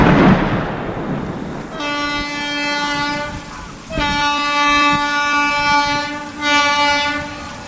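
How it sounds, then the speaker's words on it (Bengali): A local train pulls into a station late at night, its harmonic horn sounding loud and sustained in three long blasts over a low rumbling rail noise. "রাতের লাস্ট লোকাল ট্রেনটা যখন স্টেশনে এসে থামল"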